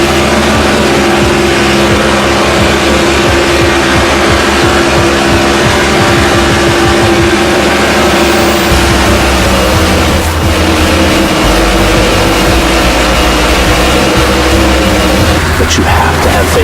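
Several stock cars in NASCAR 14 roar together at racing speed, a loud, continuous engine drone with shifting pitch as cars pass and close in, running throughout under a commentator's voice.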